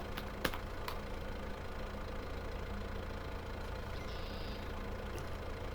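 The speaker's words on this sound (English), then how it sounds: "we're going to jump in this tractor here." Tractor engine idling steadily in a farming video game, a low continuous rumble with a faint tick or two near the start and no talk over it.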